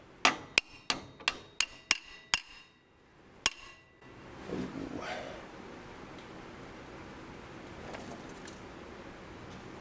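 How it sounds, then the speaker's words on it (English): A hammer taps a bolt out of a rear control arm on a G-body car, about eight sharp metallic strikes in quick succession, then a pause and one more, followed by quiet shop rustling. "we're gonna tap the bolt out"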